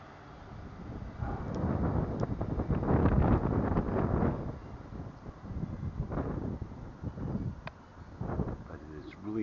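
Strong gusting wind howls outdoors on a winter day in Martinez, California, at about 28 mph, roaring and buffeting loudly against the microphone in continuous surges that swell and ease throughout.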